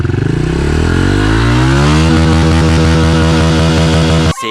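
A Honda CRF110 pit bike with a new aftermarket exhaust revs hard up close, its engine climbing quickly to a loud, sustained high-pitched wail with a buzzing, raspy edge before cutting off abruptly at the end.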